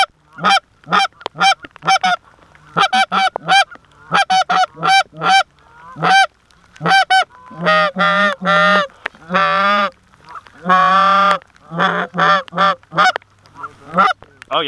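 Canada geese honk loudly and continuously in dense, overlapping calls as a large migratory flock flies in close to decoys and live birds during a hunt.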